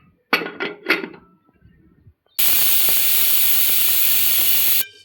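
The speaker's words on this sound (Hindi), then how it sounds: "अब हम कुकर की 6 से 7 सीटी लगाएंगे।" A pressure cooker boiling pigeon peas lets out a loud, sustained steam whistle lasting a few seconds, preceded by a few sharp metallic clatters and rattles nearby.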